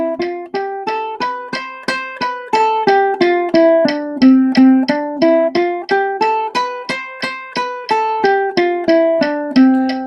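Plucked ukulele eighth notes played over a metronome set to 180 bpm, a steady, even stream of bright picked notes climbing and falling in a pattern. The playing is close and continuous, with no talking.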